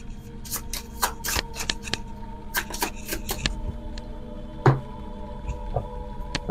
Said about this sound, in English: So we are shuffling this in.